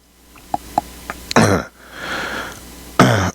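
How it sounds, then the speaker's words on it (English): A person coughs indoors: a few small throat clicks, then two loud, harsh coughs with a breathy pause between, close to the microphone. "I was getting a little cough here."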